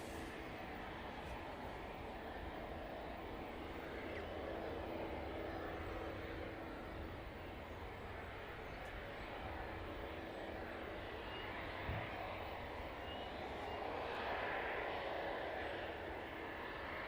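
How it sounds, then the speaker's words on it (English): A Ryanair airliner taxiing at East Midlands Airport, a steady distant jet engine drone that holds at an even level throughout with no talk over it. "Let's get back on the Ryanair before it makes a hasty exit off the taxiway there."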